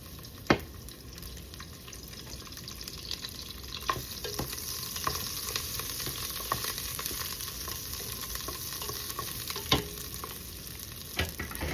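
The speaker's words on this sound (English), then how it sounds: "I'm going to add some onions for our meat. A little bit of oil." Onions frying in a little oil in a hot pot for pasta meat sauce: an even, continuous sizzle over nearly twelve seconds, punctuated by a few sharp knocks and occasional stirring, close by with no speech.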